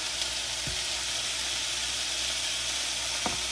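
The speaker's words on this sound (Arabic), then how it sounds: "احط البصله والسمنه" Chopped onion sizzles steadily in hot ghee in a pan, a close, continuous frying hiss with a couple of faint utensil taps.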